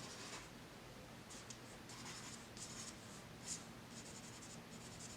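A pencil shades on paper, faint close-up scratchy strokes repeating in short bursts over a quiet background hum.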